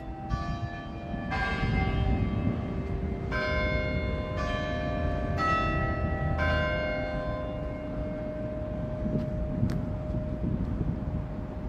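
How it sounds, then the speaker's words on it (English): Church bells ring out on a city street in Cincinnati's Over-the-Rhine neighborhood, a series of spaced, resonant strikes with long ringing decay over faint traffic and wind. "oh, there's the bells."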